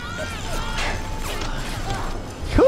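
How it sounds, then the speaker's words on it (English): Reloading an upgraded submachine gun in the remastered BioShock video game: a run of mechanical clicks, creaks and ratcheting metal handling sounds, moderately loud, ending in a sharper rising clack. "let me go ahead and reload this"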